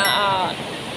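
A strong waterfall in a valley in Pakistan pours with a steady, broad rushing roar of water, loud and close, with someone talking over it.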